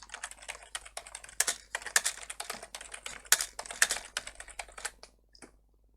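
Rapid typing on a computer keyboard while writing a Python comment, a dense run of close, crisp key clicks with uneven rhythm that stops near the end.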